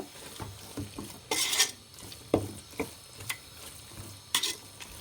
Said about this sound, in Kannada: ಇವಾಗ ಮತ್ತೆ ಒಂದ್ಸರಿ ಚೆನ್ನಾಗಿ ಮಿಕ್ಸ್ ಮಾಡ್ಕೊಳ್ತಾ ಇದ್ದೀನಿ. ಪುಂಡೆ ಸೊಪ್ಪು ಎಣ್ಣೆ ಜೊತೆಗೆ ಚೆನ್ನಾಗಿ ಫ್ರೈ ಆಗಬೇಕು